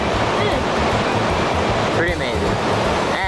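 Water from a mountain lake pours down a waterfall in the backcountry, making a steady, loud rushing roar that carries on without a break, with a few faint voices underneath.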